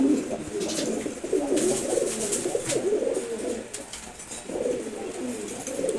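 Pigeons coo steadily in low, throaty repeated phrases, several birds overlapping at close range and moderate loudness throughout, with no talk over them.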